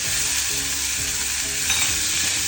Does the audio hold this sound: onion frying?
yes